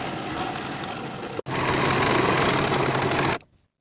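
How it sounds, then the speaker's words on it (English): A sewing machine stitching a jacket yoke seam runs in a loud, steady whir, briefly cut off near the middle before resuming and then stopping abruptly. "Sew with a 3/8 inch seam allowance, finish the edges together and press the seam up toward the yoke."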